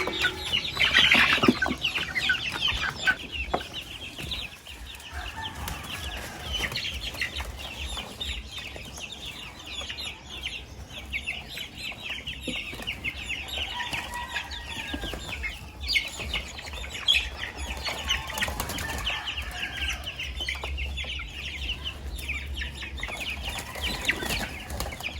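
Chickens clucking and chirping as they are released into a new coop on a homestead, a steady flock chatter at moderate distance with occasional wing flaps and louder squawks.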